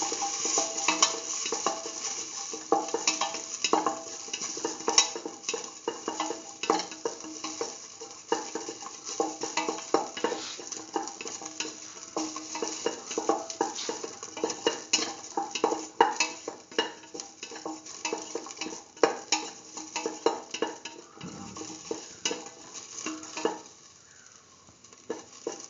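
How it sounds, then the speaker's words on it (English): Ginger sautéing in a pan for a split mung bean and eggplant stew, a steady close sizzle with repeated scraping and stirring strokes throughout, easing off near the end. "Keep on sauteing the ginger."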